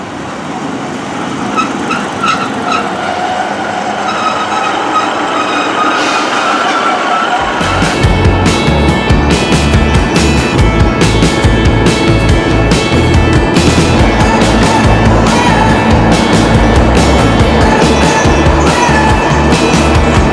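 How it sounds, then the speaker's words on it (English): A Class 153 DMU train rumbles in a train simulator game on the Welsh Marches Line. A faint hum swells abruptly into a loud, steady clatter of wheels and engine drone, with rhythmic rail clicks throughout. "after a lovely ride on that Class 153 DMU"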